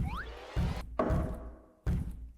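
A few hollow wooden gavel knocks from the video game Guilty As Sock land in sequence, one sharp strike followed by a sliding tone, fairly close and without speech.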